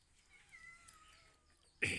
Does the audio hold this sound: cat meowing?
yes